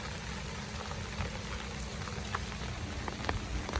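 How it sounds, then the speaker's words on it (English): Steady rain falls on a quiet street in Jing An Township, Hualien, making a dense, even hiss with scattered sharper drops, close and continuous, with no voices. "It's a Sunday and it's a rainy day."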